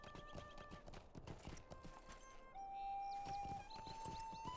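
Horse hooves clip-clop in steady rhythm in Lord of the Rings Online, with a high tonal in-game whinny or sustained tone later, played close and fairly loud amid game ambience.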